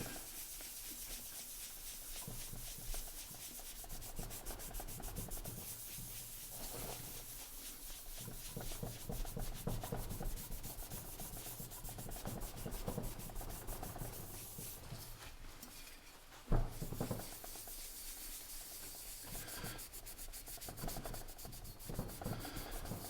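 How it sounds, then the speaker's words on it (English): Steady, close rubbing strokes as polish is worked by hand into the hard painted metal of a 1930s Sears Junior lantern during restoration, a continuous scrubbing rasp with brief pauses and no speech. "So now we'll see what we can do to bring out some shine on it with the mag polish."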